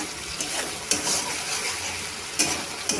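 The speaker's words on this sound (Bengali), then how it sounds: "বেশ সুন্দর মশলাটা ভাজা ভাজা হয়ে গেছে, তেল ছেড়ে গেছে।" Spice paste fries in oil in a pan with a loud, dense, steady sizzle, broken by a few sharp stirring scrapes, close and without voices.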